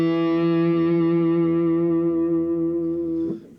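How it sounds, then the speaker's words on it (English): A sustained distorted synthesized tone with dense, buzzy harmonics holds steady at high loudness for about three seconds, then cuts off abruptly with a short crackling tail. "And now the distortion gets a little hotter."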